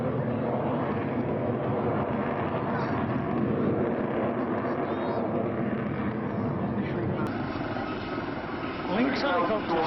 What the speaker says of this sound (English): Lynx helicopters.